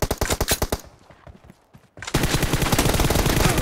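Gunfire rings out in a team-based shooter video game. A rapid string of loud shots comes first, then a brief lull, then sustained automatic fire that keeps going without a break.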